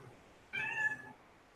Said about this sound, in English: Oh, that's just my cat.